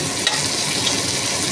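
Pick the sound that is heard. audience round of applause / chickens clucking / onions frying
onions frying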